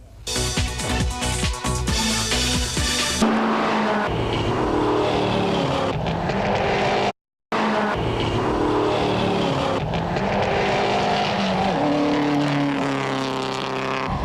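BMW M3R rally car in factory trim with catalytic converter and standard chip, racing in the Targa rally: loud engine revving and shifting through gears, with changing pitch and a brief cut partway through.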